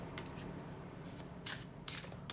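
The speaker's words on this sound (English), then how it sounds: "let's shuffle with intention" Tarot cards being shuffled by hand in quiet, soft riffling bursts, with a few brisker flurries standing out against a faint background hum.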